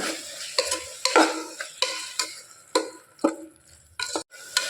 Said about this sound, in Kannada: ಇದನ್ನು ಒಂದು 2 ನಿಮಿಷ ಹಸಿ ಸ್ಮೆಲ್ ಹೋಗೋ ತನಕ ಹುರ್ಕೋಬೇಕು